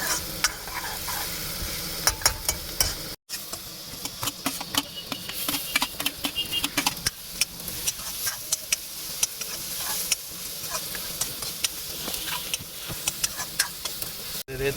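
Sev bhaji is stirred and fried until brown: a continuous sizzle runs under frequent sharp scraping and tapping of a spoon against the pan. There is one brief near-silent gap early on.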